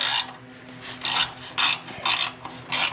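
A ratchet wrench loosens a 13mm nut on a muffler pipe clamp, giving five rhythmic rasping strokes of metal clicking, close and crisp with short pauses between pulls.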